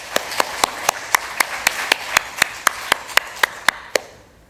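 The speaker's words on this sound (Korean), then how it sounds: "여러분, 우리 함께 하나님께 영광의 박수 돌릴까요?" A church congregation claps together in unison, about sixteen sharp, evenly spaced claps at a brisk steady beat, then stops abruptly.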